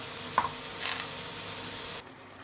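Green chilies stirred in a hot frying pan with oil, a soft continuous sizzle with a scrape or two of the spoon near the start, cutting off abruptly after two seconds.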